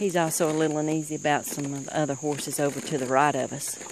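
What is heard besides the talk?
crickets chirping in the background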